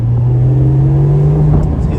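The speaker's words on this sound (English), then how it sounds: "I'll go through a couple corners with the valves closed so you can hear that" Porsche 718 Spyder with a Kline exhaust and its valves closed, taken through corners: a steady, fairly subdued engine drone with a low hum and a faint higher tone, continuous for two seconds and easing slightly near the end.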